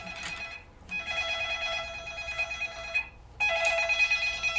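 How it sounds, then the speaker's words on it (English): A phone rings in two long electronic bursts separated by a short pause, clear and fairly close in a quiet room with no talking over it. "That's his phone."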